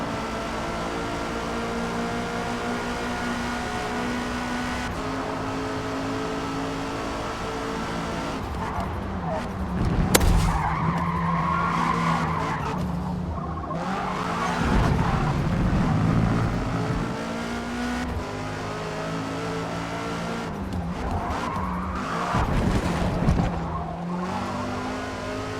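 Race car engine roaring steadily with tire squeals and skids in Forza Motorsport S Class racing, sustained and loud throughout, with bursts of screeching around cornering moments.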